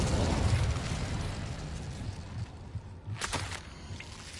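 A fire spell is cast in the Hogwarts Legacy video game, a burst of roaring flame at the start fading out, followed by a short crackling flare.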